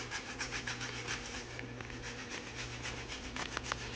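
Close scrubbing of a grimy surface with 409 cleaner: steady, rasping back-and-forth rubbing strokes, fairly quiet and continuous, with a few sharper scratchy swipes near the end and no talking.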